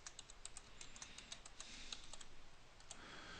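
Quick, uneven keystrokes on a computer keyboard as a password is typed, a close, light run of clicks lasting a few seconds with no talking.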